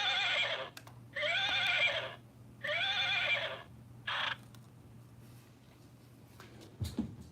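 A horse neighs in three long, loud whinnies with a shorter fourth call, close by and separated by pauses, over a low steady hum, with no talk.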